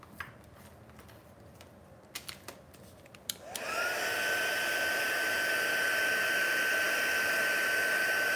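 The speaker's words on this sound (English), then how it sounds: "And then I'm just going to take the heat tool." A craft heat tool switches on partway through to dry paint on a mixed media project, its steady loud fan whine and rushing air holding to the end after a few soft taps and handling clicks.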